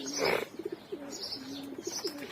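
Pigeons being fed grain coo softly in repeated low, throaty phrases over a faint background hiss. A brief, brighter chirp sounds near the start, and no voices are heard.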